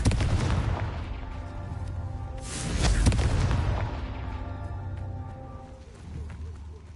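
The Confringo fire blast spell in the video game Hogwarts Legacy sounds as a booming, crackling explosion with a sharp burst in the middle and a rumbling tail, among game effects.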